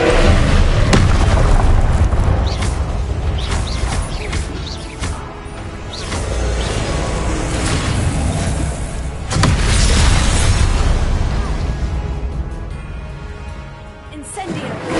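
Incendio fire spell in Hogwarts, booming bursts of flame with whooshing swells that come in repeated waves, loud and close, amid other spell effects.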